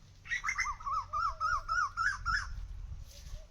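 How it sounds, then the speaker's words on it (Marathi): A bird calls outdoors beside farm fields, giving a quick run of about eight clear, chirping notes over roughly two seconds, fairly close and loud against a low background hum, followed by fainter notes. "कुठला पक्षी आहे हो?"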